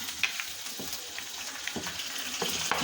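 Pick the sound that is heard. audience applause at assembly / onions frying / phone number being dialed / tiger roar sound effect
onions frying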